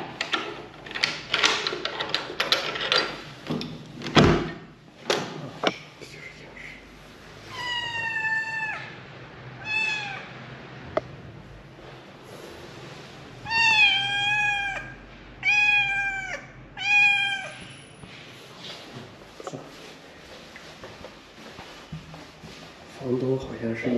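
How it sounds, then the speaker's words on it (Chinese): A landlord's cat meows several times, with close, clear, drawn-out calls in short clusters. Faint background noises come in between the calls, and a person speaks briefly. "喵，房东的猫"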